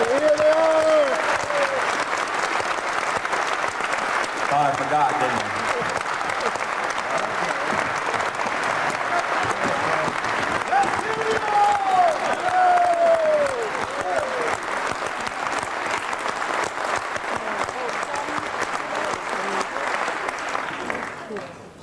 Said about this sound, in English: we'd like to give them a special round of applause tonight